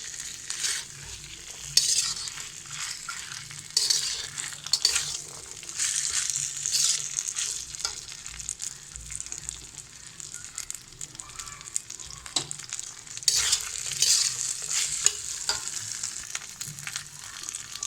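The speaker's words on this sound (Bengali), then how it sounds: "আলু আর ছোলার মিশ্রণটা দিয়ে ভালোভাবে মশলার সাথে মিশিয়ে নেব" A potato and chickpea mixture being stirred with spices in an oily pan for shahi chola bhuna, giving a steady scraping, sizzling crackle with rougher stirring surges throughout, close and moderately loud.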